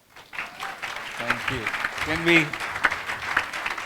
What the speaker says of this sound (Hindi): Can we give all of them a big clap?